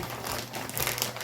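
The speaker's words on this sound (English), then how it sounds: "So I'm gonna stick that in plastic bag." A plastic bag crinkles briefly and fairly loudly up close as dyed wool fiber is tucked into it, in one short continuous rustle.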